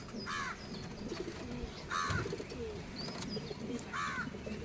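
Pigeons coo in soft rolling phrases, three distinct bursts spaced a couple of seconds apart, over a busy background of faint chirps and ambient rustle; no one speaks.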